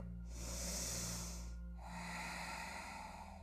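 A slow yoga inhale draws in as a soft, airy hiss, followed by a second longer breath, heard close and quiet over a faint low hum.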